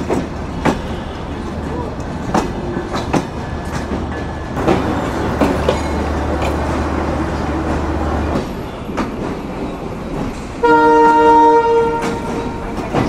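The intercity Simanta Express backs into Khulna railway station at night, its wheels clattering and rumbling steadily under station noise and scattered clacks, ending with a loud horn blast.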